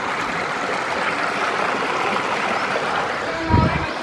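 A flooded, muddy river rushes in a continuous broad roar, steady and close throughout, with a brief low thump near the end.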